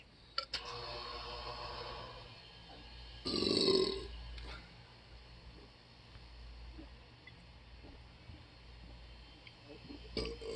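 A huge, deep burp after chugging Fanta Pineapple from a boot-shaped glass, one loud sustained belch in the middle, with quieter handling clicks and room noise around it.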